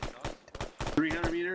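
Suppressing fire in a platoon training session: a string of sharp, close gunshot bursts, followed by a voice speaking over the last of the shots.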